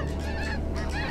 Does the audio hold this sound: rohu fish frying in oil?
no